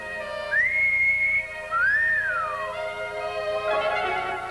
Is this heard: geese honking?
no